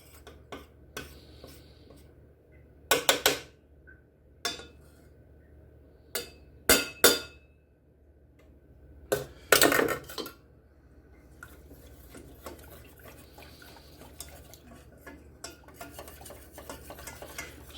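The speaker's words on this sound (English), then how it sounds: "heating up and constantly stirring" A utensil stirs roux into cream for a bechamel sauce in a pot, giving soft scraping under sharp intermittent clinks against the pan, close and sparse.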